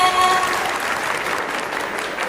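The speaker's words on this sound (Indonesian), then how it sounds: "Beri tepuk tangannya semuanya." A crowd at a product launch event claps steadily and fairly loudly throughout, a dense wash of applause with no break.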